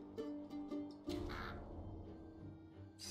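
A bird enemy caws in the fantasy game For the King: a few short harsh calls up front, then a louder raspy burst around the one-second mark, set amid game music and effects.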